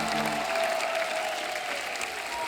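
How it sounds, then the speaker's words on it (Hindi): A crowd applauding loudly and continuously, a dense wash of clapping with faint cheering mixed in, from a comedy show studio audience. "जोरदार तालियां"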